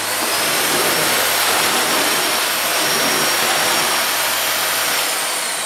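Miele Swing H1 Powerline stick upright vacuum cleaner running on its maximum setting, a loud, steady broadband whine and rush that holds unchanged from start to finish, with no one talking.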